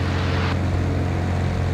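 Cessna Skymaster 337 twin engines at full takeoff power, a loud steady drone with strong low hum that continues unbroken throughout.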